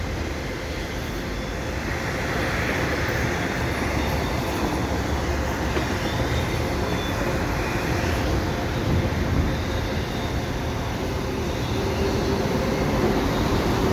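A CN freight train of double-stack container cars and auto racks rolls past at Des Sources Blvd, making a continuous loud rumble and rattle of wheels and cars that holds steady throughout with no break.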